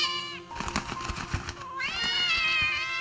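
A female cat meows loudly and close, giving two drawn-out wailing cries separated by rough, choppy vocal sounds.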